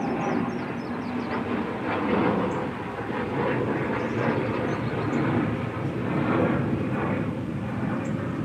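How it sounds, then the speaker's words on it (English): An airplane passes overhead outdoors in a residential area, its engine a broad, steady roar that swells and eases while staying fairly distant, with no talking. "Now he's chasing an airplane."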